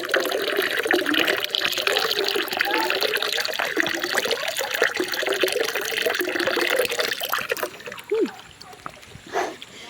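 Water flowing steadily in a rural countryside stream, a continuous close rush with voices talking over it.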